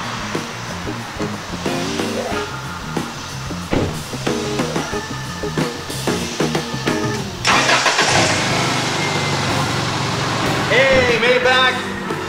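Subaru car engine starting and then running after a strut replacement, heard at close range as a cranking catch followed by a steady engine hum for several seconds, over a background of music.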